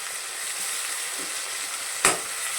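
Steady bright sizzle of brinjal masala frying in a pan with coriander and mint leaves, with one sharp clack from a utensil about two seconds in.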